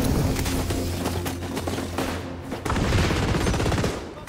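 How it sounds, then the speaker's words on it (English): Dense gunfire and grenade blasts fill an XDefiant firefight, rapid continuous shots with repeated booms, loud and close with no pause across the whole stretch. "Grenades away!"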